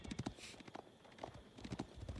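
Horse hooves clip-clop in a quick, uneven rhythm in the real-time strategy game Age of Empires IV, soft and fairly distant, running throughout with brief pauses.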